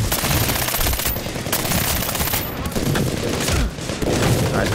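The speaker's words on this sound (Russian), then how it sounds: "А, пистолет пулемет." Submachine gun firing aboard a ship deck in the shooter game Medal of Honor Warfighter: loud, rapid sustained bursts mixed with other gunfire and booms.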